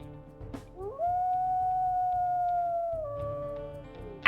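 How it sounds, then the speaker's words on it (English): A single long wolf howl from the video game WolfQuest rises, holds steady for about two seconds, then drops and fades, clear and alone over a faint background. "Now, if we listen to her howls, she actually does have one of the new ones"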